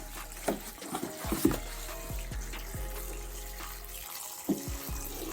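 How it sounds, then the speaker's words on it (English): Water poured over sea moss to rinse it, with close splashing and a few clinks and knocks against the container, no talking. "I'm gonna pour some more water."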